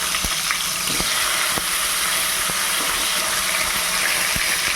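Cut potato pieces fry in hot oil with nigella seeds, a loud, dense, steady sizzle close up, broken by occasional sharp pops and spatula taps.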